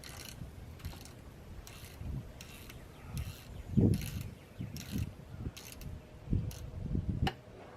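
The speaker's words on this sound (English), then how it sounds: "Just sounds gravelly even turning the bolt as its bearings moving." A worn tensioner pulley bearing from a 2002 Chevy S-10 is turned by hand. It gives gritty, gravelly ratcheting clicks in slow uneven bursts, close up, with a few low handling thumps and no speech.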